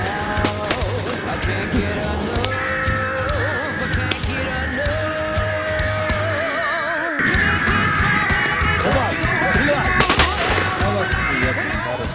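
Sharp shotgun blasts ring out at irregular intervals during a hunt of hooded crows, over a busy outdoor background, with a couple of louder shots near the end.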